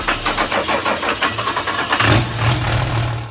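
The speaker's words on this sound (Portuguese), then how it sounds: "Colocaram um motor diesel em uma Lamborghini." A 2004 Lamborghini Gallardo fitted with a Cummins diesel engine cranks with a rapid rhythmic chug, then catches at about two seconds and settles into a loud, steady, low diesel idle close by.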